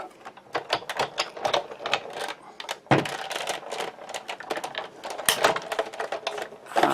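Manual die-cut machine cranking a card and cutting pad through its rollers for a Christmas ornamental pine card, a close, continuous clattering ratchet with steady rapid clicks and no speech.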